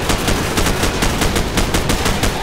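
Rapid automatic gunfire from Call of Duty 4: Modern Warfare, a dense stream of loud close shots in a steady rhythm that runs through the whole stretch without pause.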